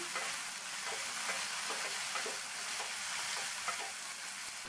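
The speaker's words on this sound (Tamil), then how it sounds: "இந்த தக்காளியை சேர்த்துட்டு இது கூட கொஞ்சமாக உப்பு. இந்த தக்காளி நல்லா வதங்கி வரணும்." Chopped tomatoes with salt sautéing in a pan, a continuous quiet sizzle broken by light rhythmic stirring scrapes, close and with no talking.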